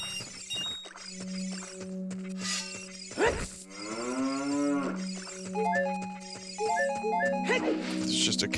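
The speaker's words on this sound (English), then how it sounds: "It's just a cow friend." Cattle lowing from a cow in Zelda: Ocarina of Time 3D, a long moo rising and falling midway through, set among twinkling game music notes and a brief crash-like effect.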